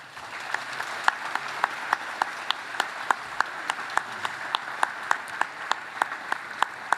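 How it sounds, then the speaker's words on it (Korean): Applause from the audience at Korea's 77th Constitution Day ceremony, honoring the bereaved families of the Constituent Assembly members. Steady, moderate clapping runs throughout, with sharper individual claps standing out above the crowd. "여러분, 재원 의원 유족회에 큰 박수 부탁드립니다."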